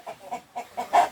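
Free-range village chickens cluck in a short run of soft, close pulses, ending in one louder cluck, with no talk over them.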